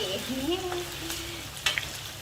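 Thin slices of pork belly fry in fish sauce and oil in a pan, giving a close, steady sizzle with a few sharper crackles and pops.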